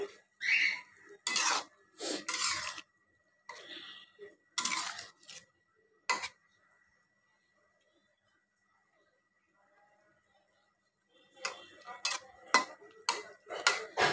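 Cooked fish being spread through bottle gourd greens in a pan: bursts of close utensil clatter and scraping, then a few seconds of near silence, then more quick rattling strokes.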